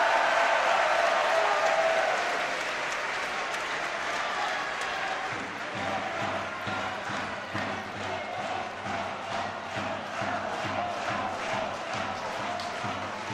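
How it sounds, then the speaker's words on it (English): A crowd at a Rubik's cube championship applauds, starting with a loud burst of cheering that settles into steady, rhythmic clapping, with announcer speech running over it. "Big cheers for Olaf from the crowd"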